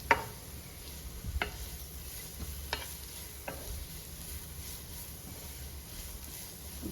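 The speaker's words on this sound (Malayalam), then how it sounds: "നമ്മുടെ സവോള നന്നായിട്ട് തന്നെ വഴണ്ട് വരണം" Onions sauté in a pan for a Kerala-style tomato fry, a steady low sizzle broken by a few sharp spoon scrapes and taps as they are stirred.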